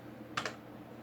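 Two quick computer keyboard key presses close together, faint and near, over quiet room tone while working in an Excel spreadsheet.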